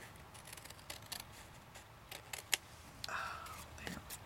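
Scissors trim collage journal cards in a quiet indoor crafting setting, giving a few soft, faint snips spread across the moment, with a brief louder click near the middle and a low rustle of paper toward the end.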